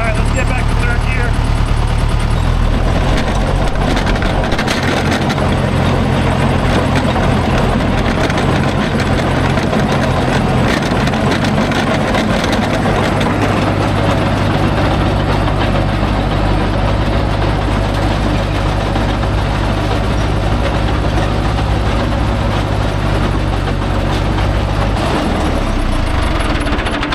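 Old Duramax LB7 diesel pickup pulling a dozer at about 30,400 lb gross weight in third gear, a steady, loud, low engine drone with road rumble throughout and a person talking over it.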